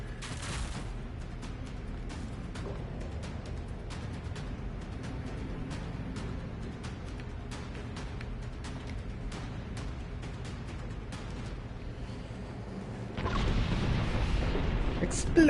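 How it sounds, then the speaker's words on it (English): Demolition charges go off in Dragon Age: Inquisition as a rapid string of sharp cracks and pops that ends in a louder, rumbling blast. "Explosions!"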